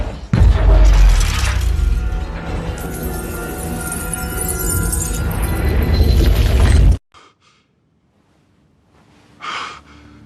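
A Lamborghini car crash, a loud sudden impact followed by seconds of dense crunching, roaring wreckage, then an abrupt cut to near silence with a faint gasp-like breath at the end.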